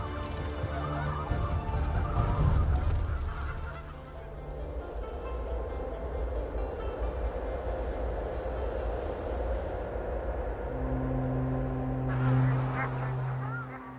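Geese honking as they migrate north over high mountains toward breeding grounds, calls repeating over a steady rumbling background, with a louder burst of honks near the end.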